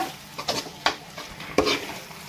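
Curry leaves stirred into eggplant thokku frying in oil, a few distinct scraping stirs breaking over a soft steady sizzle, close and fairly quiet, with no talking.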